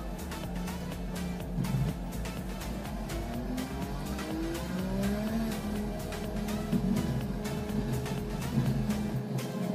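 A race car engine in a racing video game drones steadily, its pitch rising as the car pulls out of the pit, with a constant mid-level hum throughout and no voices.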